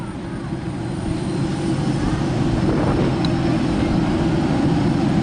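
A big airliner's engine roars steadily and loudly nearby at Naples, Italy, a constant broad rumble and whoosh that holds for several seconds.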